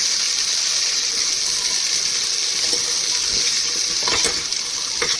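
Brinjal pieces fry in a hot pan with a steady bright hiss, and a few stirring scrapes near the end, no speech.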